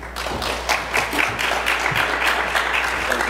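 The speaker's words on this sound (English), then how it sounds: "Please give a warm round of applause, George Atalla." Audience applause, a dense burst of many hands clapping together at a steady loud level throughout.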